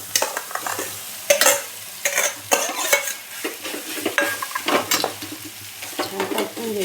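Potatoes sautéed with chili-garlic thecha in a pan sizzle under repeated, irregular scraping and clinking of a spatula against the pan, close and lively throughout.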